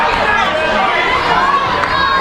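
Wrestling crowd at a Detroit independent show cheering for Willie Watts, a dense, loud wash of shouting and cheering voices filling the whole stretch without a break.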